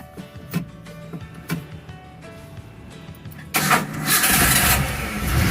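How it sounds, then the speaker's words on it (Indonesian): A Daihatsu Espass fitted with a new Nagoya NS60 battery gives a few quiet clicks, then fires up on the first crank and settles into a loud, close idle. "Sekali starter langsung nyala teman-teman"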